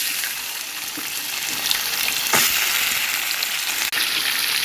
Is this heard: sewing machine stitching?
no